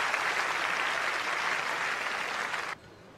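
Centre court crowd applauds at a 2012 AEGON International women's tennis semifinal, a steady wash of clapping that cuts off abruptly near the end.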